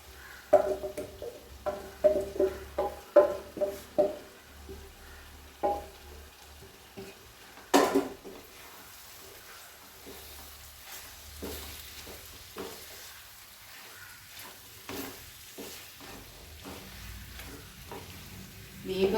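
Fried beef for pickle is tipped into a pan and stirred, giving soft sizzling under a run of scraping, clinking stirring strokes early on, then a quieter hiss with occasional spoon knocks.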